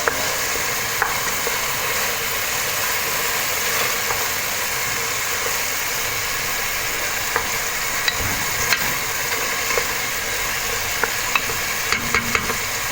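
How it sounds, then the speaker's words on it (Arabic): Dried meat (gueddid) fries in a pan with a constant close sizzle, and a few sharp clicks and scrapes from stirring break through it at irregular moments, with no voices. "المهم غنديروا الكديد، غنخليوه تا هو يتقلى معاه شويه"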